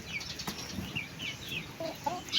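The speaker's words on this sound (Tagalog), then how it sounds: "Ito, lalaki na manok." Young roosters in a coop at feeding time give soft, scattered clucks and a brief flutter of wings, fairly faint and intermittent against a quiet background.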